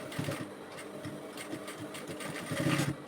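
A sewing machine runs in steady rapid stitching bursts while sewing a reversible bonnet cap, quiet and close with no voices over it.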